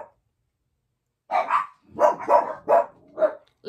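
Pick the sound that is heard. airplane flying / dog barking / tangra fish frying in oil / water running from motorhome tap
dog barking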